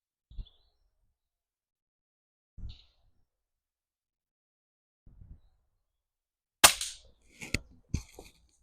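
An air rifle fired outdoors: a few faint, isolated pops spaced seconds apart, then a sharper, louder crack followed by two more quick reports, with light birdsong in the quiet background.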